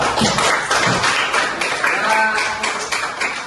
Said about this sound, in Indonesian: Tepuk tangan di kelompok 2.